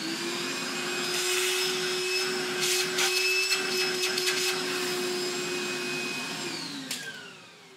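A vacuum cleaner sucks up metal drill shavings left from drilling out a Toyota Corolla 7AFE cylinder head with a 1/4 inch bit. The whine runs steadily and close for most of the clip, with rattles of debris pulled in, then winds down near the end.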